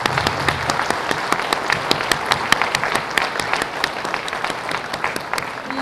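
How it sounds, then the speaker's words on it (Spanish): Loud, close applause from a university medical faculty graduation audience, a crisp, continuous patter of many hands with sharp individual claps standing out, steady from start to finish. "solicito un aplauso."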